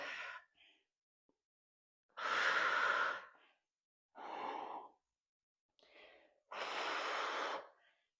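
Heavy breathing during a prenatal upper body and core workout: three long, loud exhales with shorter breaths between them, close and with no talk.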